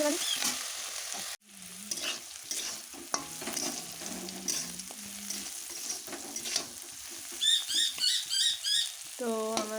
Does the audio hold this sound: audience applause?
no